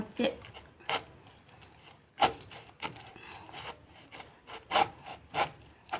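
A knife saws through a ripe pineapple in a few separate rasping strokes, close and fairly quiet, with short pauses between the cuts and soft speech now and then.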